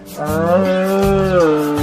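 Cattle on a farm let out a single loud, drawn-out moo close by, rising and then holding steady for nearly two seconds with no talking over it.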